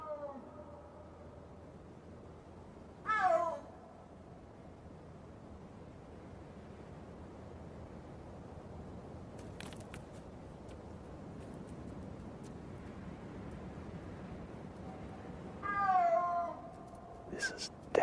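Snow leopards calling during courtship in a mountain setting: two moaning, meow-like yowls, one near the start and one near the end, rising out of steady wind-like background noise.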